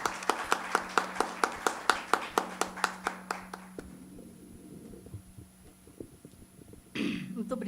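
Applause welcomes a speaker at a literary event marking 90 years of 'Macunaíma'. Sharp, evenly spaced claps, about a dozen in quick rhythm, stop after a few seconds and leave near silence before a brief rustle.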